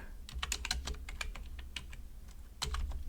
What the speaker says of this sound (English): In cell 1, we're going to type